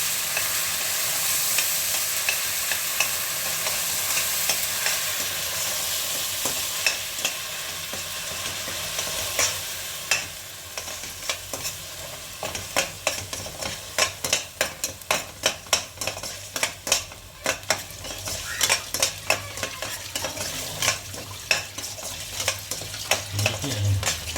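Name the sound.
onion paste sautéing in a pan for paneer masala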